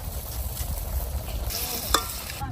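Gourd greens stirred into a frying pan with oil and small fish (chela), a steady sizzle under scraping and stirring, with a sharper clatter near the end.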